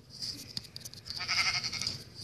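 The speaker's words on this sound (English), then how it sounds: "Oh, sheep." Sheep bleat in a block-building video game, a few short bleats over a steady bed of game ambience, moderately loud and close, with no talk.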